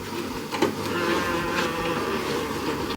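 A sewing machine stitches a cosplay costume with a steady, close mechanical whirring buzz that runs evenly for a few seconds before stopping abruptly.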